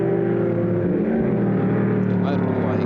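Touring cars racing on a wet track at Warwick Farm in 1973, a loud continuous engine drone with shifting pitch close by, heard under a commentator's voice.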